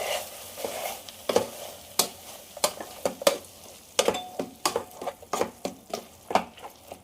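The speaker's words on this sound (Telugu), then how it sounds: "గ్యాస్ ఆఫ్ వేసుకొని వెనిపేసుకుందాం." Cooked okra dal mashed in a pot with the stove turned off: a close, irregular run of sharp scraping knocks and thumps, about two per second, with no voices.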